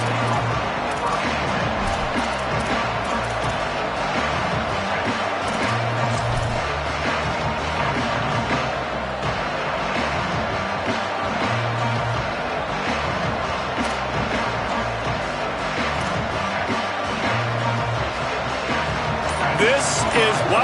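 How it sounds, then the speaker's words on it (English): A football stadium crowd at a game against BYU roars in a constant, dense wash throughout, with a commentator talking over the noise. "This crowd ready to make its presence known."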